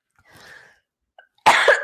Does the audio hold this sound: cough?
yes